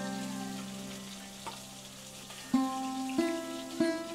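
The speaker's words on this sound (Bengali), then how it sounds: "মাছগুলো এরকম হালকা ভেজে নেবেন, আর একটু লাল হবে" Pieces of a large fish fry lightly in hot oil, a steady soft sizzle running throughout with a few sharp clinks of a utensil toward the end.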